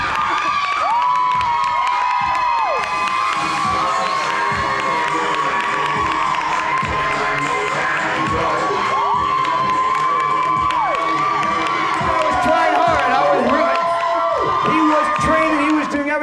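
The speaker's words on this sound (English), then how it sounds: "Let's have a big hand for Mike" A studio audience on a television courtroom show cheers and whoops for a contestant, a dense, sustained crowd roar under sweeping musical tones, with people talking over it.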